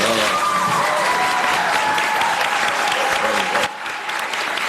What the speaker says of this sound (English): Some rare cheers erupting during yesterday's Orange County Commission meeting